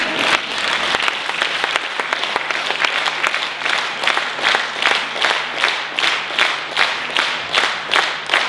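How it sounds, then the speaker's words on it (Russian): A concert audience claps loudly and steadily, the dense applause gradually turning into rhythmic, synchronized clapping with regular beats toward the end. "еще раз громкие аплодисменты, еще раз браво великим артистам, великим талантам России!"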